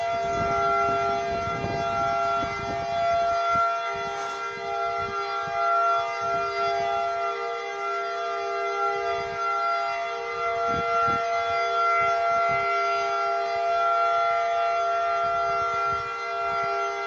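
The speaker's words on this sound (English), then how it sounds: "Tornado sirens going off now." Tornado warning sirens wail across Westmoreland County, a steady sustained civil defense tone holding loud and unbroken for the whole stretch with some faint low background rumble.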